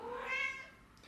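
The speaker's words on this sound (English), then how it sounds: "And that's our cat." A house cat gives a single clear meow, rising then falling and lasting about a second, close by in a quiet indoor room with no talking.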